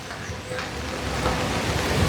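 Strong gusting wind with rain on a street in Copacabana, a dense, loud roar of air and falling water that swells toward the end, with no other sounds rising above it.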